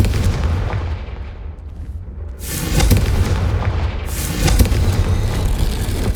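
Confringo fire-blast spell explosions in Hogwarts Legacy on PS5, a rumbling boom near the start, then two heavy crackling blasts a couple of seconds apart over loud continuous game noise.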